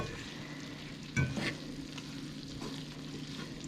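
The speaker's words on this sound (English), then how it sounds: "I'm going to actually mix all the ingredients in here while it's still cooking" Ingredients being stirred as they fry in oil in a pan, a steady broadband sizzle with a brief louder scrape of the spoon early on, then continuous even crackling.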